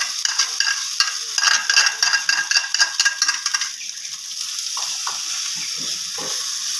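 An egg mixture fries in hot ghee on a griddle. Rhythmic scraping and clinking over a bright sizzle fill the first half, then settle into a continuous, even frying hiss.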